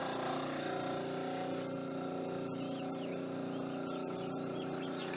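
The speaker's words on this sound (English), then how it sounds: "I'm going to turn on my air compressor" An air compressor for an airbrush runs with a steady, droning hum and faint mechanical rattle, constant and fairly quiet, with no voices over it.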